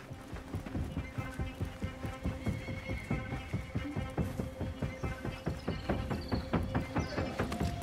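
A horse in the game Assassin's Creed Mirage trots with steady rhythmic clip-clop hooves throughout, a neigh mixed in, fairly quiet with faint voice underneath.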